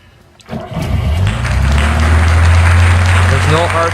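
A Lada Kopeyka car engine cranks and catches with the choke pulled out, then settles into a loud, steady, slightly raised idle right next to the mic.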